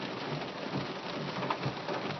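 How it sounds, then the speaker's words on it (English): Heavy rain pours steadily during an Oklahoma thunderstorm, a dense, constant wash of drops close by with no pauses, loud and unbroken across the whole stretch. "The rain is getting a little heavier."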